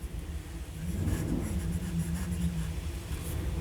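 A Sheaffer Prelude fountain pen with a medium, broad, wet nib writes Sheaffer Red ink on paper, a soft steady scratching heard close over a low background hum.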